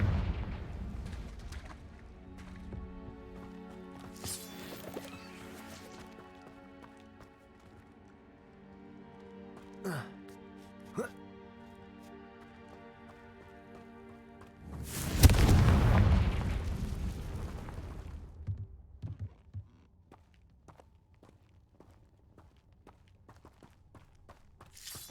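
Hogwarts Legacy spell combat: a Depulso push and a Confringo blast thud and crackle amid game footsteps and ambient score, with one big burst near the middle and smaller impacts before it.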